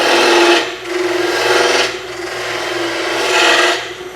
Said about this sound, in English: I'm just going to refine it with spindle gouge